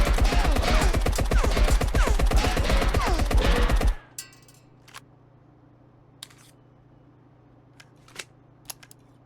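A fast, steady stream of automatic gunfire from a gun fired from the hip in the game Marauders, loud and close for about four seconds before cutting off, followed by quiet room tone and a few faint clicks.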